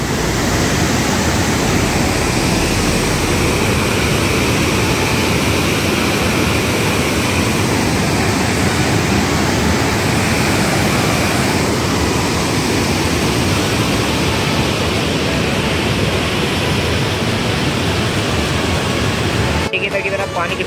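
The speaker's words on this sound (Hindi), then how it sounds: "देखिए इधर से पानी बह रहा है" Water pours steadily through the opened gates of Kota Barrage on the Chambal river, a loud, unbroken broadband roar of rushing flow that fills the whole stretch from start to finish.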